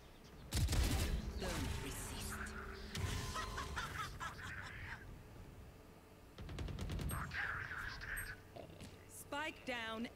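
Valorant gunfire in a match: bursts of rapid shots and impacts mixed with game effects, heard close alongside a streamer's speech and in-game voice lines.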